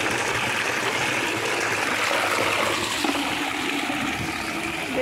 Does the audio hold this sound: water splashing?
yes